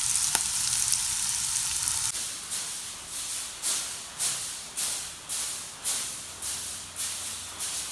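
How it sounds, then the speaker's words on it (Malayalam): Fish sizzles and fries in a hot pan, a steady crackling hiss with rhythmic surges about every half second from about two seconds on, as if being stirred or splashed, close and fairly loud. "ലാസ്റ്റ് വന്ന് മീൻ പൊരിക്കണം മീൻ പൊരിക്കാൻ വെച്ചിട്ടുണ്ട്"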